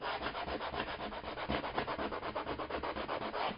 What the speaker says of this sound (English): I have a 220 sandpaper. I'm gonna sand this down real quick.